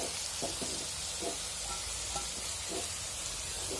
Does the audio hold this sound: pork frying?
yes